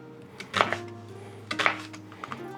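A knife chops through an onion on a cutting board in a few distinct strokes, close and crisp, with a steady background hum between the cuts and no talking.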